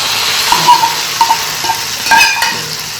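A spoon stirs sweet pongal, rice cooked with jaggery, raisins and cardamom powder, in a pan. Soft scraping sits under a faint background hiss, broken by a few light metallic clinks against the pan.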